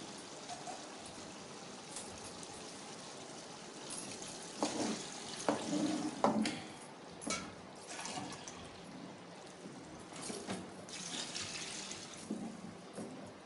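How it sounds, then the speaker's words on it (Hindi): Water is poured from a mug into soaked rice in a cooking pot for chicken pulao, a few splashing gushes and trickles against quiet background noise. "इसलिए हम इसमें पानी थोड़ा डालेंगे"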